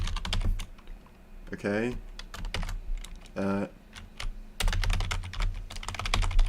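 Rapid clicking keystrokes on a computer keyboard come in quick bursts, close and fairly clear, with short pauses and a few spoken words between them.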